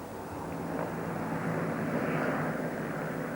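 Military display aircraft flying at the Farnborough air show trailing smoke, a steady broad engine roar that holds loud and continuous throughout, with no talk over it.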